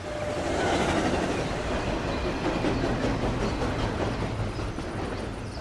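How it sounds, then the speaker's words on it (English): A train rolls through a large wooded park, a loud, steady rumble with rail clatter that holds evenly throughout, nearby and with no voices over it. "there's even a train that cuts through it"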